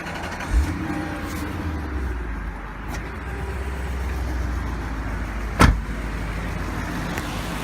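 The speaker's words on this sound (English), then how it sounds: "we're going to go ahead and just start the engine up here back at the dealership now" Engine of a 2003 Lexus SC430 convertible running at a dealership, a smooth low idle hum close by, broken by a couple of sharp thumps or clunks.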